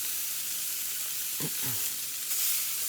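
Filet mignon searing in a hot pan gives a steady, close sizzle and hiss. Two short low thumps sound partway through, and the sizzle brightens briefly near the end.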